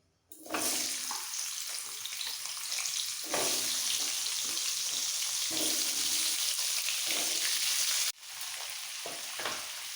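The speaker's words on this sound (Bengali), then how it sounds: "খুব সামান্য একটু নুন দিয়ে আলু আর মূলো ভেজে নেবো" Potatoes and radish frying in a pan with salt and kalonji seeds give a loud, continuous close sizzle, with stirring scrapes and brief breaks where the hiss drops and then resumes.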